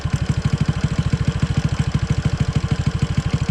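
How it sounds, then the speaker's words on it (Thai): A Honda Wave 100 motorcycle engine idles after a carburetor adjustment, a steady, fast, close putter with even pulses throughout and no voices. "แต่สังเกตเห็นว่า รอบเดินเบามันจะเร่งขึ้นแล้วก็ผ่อนลงนิดนึงนะครับ"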